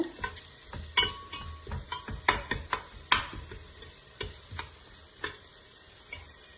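Spices with turmeric frying in a pan, a soft sizzle under a series of sharp taps and scrapes from a spoon stirring against the metal, close by and irregular, with no talking.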